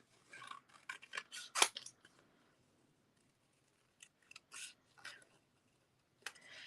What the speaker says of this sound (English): let me just cut these out real quick